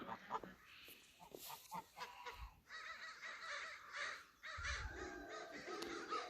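Crows caw repeatedly on a farm at dawn on a frosty June morning, harsh calls at middle distance over faint outdoor background noise.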